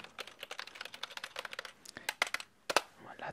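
Fingers tap a computer keyboard in quick, uneven bursts of crisp clicks, close and soft-spoken in character, with a few sharper key strikes near the end and no voice.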